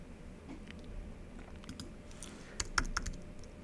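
Numbers are tapped out on a computer keyboard in scattered, light clicks that build into a quick burst of sharper keystrokes, close by and fairly quiet, without speech.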